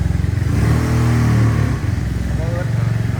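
A customised 2013 Yamaha TMAX 530 scooter idles up close with a steady, loud, throbbing engine rumble and a brief dip mid-way, while someone talks over it.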